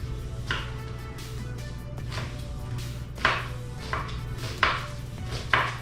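A knife chops onions on a cutting board in a home kitchen: a series of sharp, close chopping strikes spaced irregularly over a steady low hum, with no speech.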